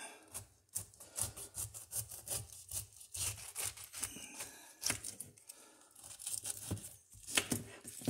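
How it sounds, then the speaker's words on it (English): A knife saws through the fibrous top and bottom of a pineapple, producing close, rough scraping strokes in uneven bursts with short pauses between them. "I'm going to cut the top, and then I'm going to cut the bottom."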